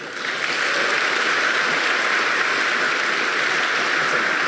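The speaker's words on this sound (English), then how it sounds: "give a warm round of applause to Dr. Michael Roos" Warm audience applause for a speaker heading to the podium at a scientific debate, building within the first half second into a steady, dense roar of many hands clapping that stays even throughout.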